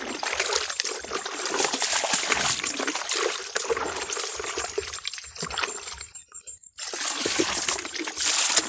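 Fermented fishing bait being rinsed in water outdoors at an eel fishing spot, a steady close trickling and splashing that runs almost unbroken, with a brief quiet gap near the end.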